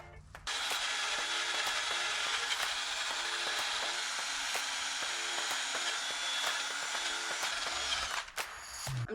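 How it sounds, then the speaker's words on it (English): A steady, harsh whirring grind runs for several seconds, a wire wheel on a drill removing rust from a shipping container's metal plate, close and loud, stopping near the end with a brief clatter. "I'm just using the wire wheel on the drill attachment to get it off the plate here"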